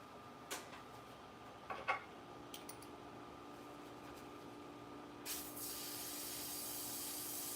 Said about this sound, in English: I'm going to run some reducer through this airbrush real quick